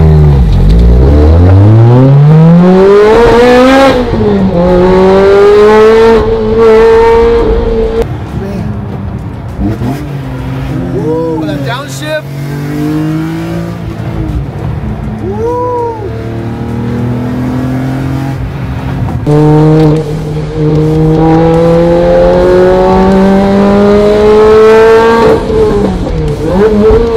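A BMW E46 M3 CSL's engine revs loudly while driving, rising through the gears in repeated sweeping climbs and dropping back between shifts, with people talking over it partway through.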